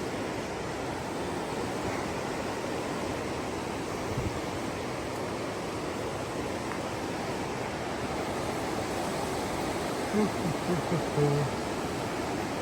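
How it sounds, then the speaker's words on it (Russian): Mountain river in Sochi rushing along a walking route toward Rosa Khutor, a broad constant roar of water at steady loudness throughout, with a few faint brief sounds near the end. "ну шумит река, шумит"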